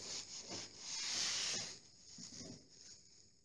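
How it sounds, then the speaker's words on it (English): A cloth is rubbed against a wooden surface to work wax into the grain, making a soft continuous hissing friction that swells and fades with each stroke, quiet and close. "just keep rubbing it."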